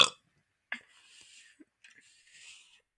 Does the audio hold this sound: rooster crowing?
no